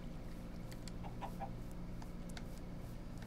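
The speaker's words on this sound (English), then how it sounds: "There's chickens." Chickens clucking in a video game, with soft, scattered clucks over a steady low background hum and no talking.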